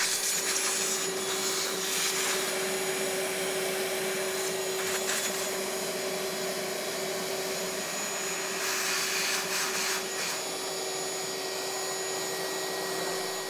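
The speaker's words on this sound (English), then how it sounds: "use my vacuum, clean as much of this up. I'll get all this stuff sucked up" An Ecovacs Deebot N79 (DN622) robot vacuum runs continuously at close range, its loud steady roar with a constant whine and occasional rattles of debris being sucked up.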